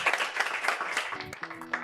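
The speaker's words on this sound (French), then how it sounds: "Est-ce qu'on peut applaudir pour lui encore?" A studio audience claps for a student guest on a French talk show, a steady mid-level patter of many hands through the clip, joined near the end by a faint held musical tone.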